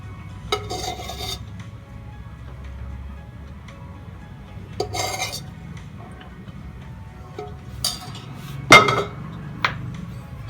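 Stuffed eggplant being served from a pan onto a dish, a few sparse scrapes and clinks of a utensil against cookware, close and quiet, separated by pauses, with no talking.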